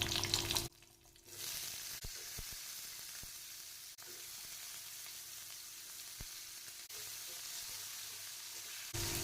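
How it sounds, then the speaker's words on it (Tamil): Ivy gourd and curry leaves sautéing in hot oil for an Andhra-style fry, a steady close sizzle running throughout, broken by a few sharp clicks of a stirring spoon against the pan. "நம்ம இந்த கோவக்காயை வதக்கிக்க போகிறோம்."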